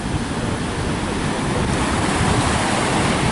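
Strong wind and rough sea waves roar continuously on a beach at Marina di Torre del Lago, a dense, loud wash of surf and gusts buffeting the microphone.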